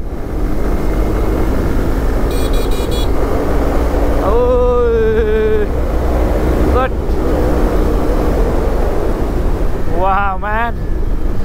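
An Aroma-Z motorbike engine runs steadily while riding, a loud continuous rumble blended with heavy wind buffeting, with someone talking over it at intervals.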